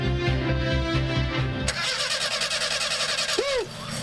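A sputtering, faulty engine cranks and catches in a radio-ad-style sound effect, its low rapid chugging giving way to a rough, uneven running rumble that stays loud throughout.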